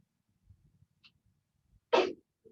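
A single loud sneeze bursts out near the close after quiet room murmurs and faint breathing, standing alone and abrupt.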